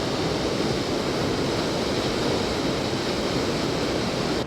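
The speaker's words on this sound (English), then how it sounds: "So this is the waterfall." A waterfall in Iceland roars as a steady, dense broadband rush of falling water, close and loud, constant throughout with no voices.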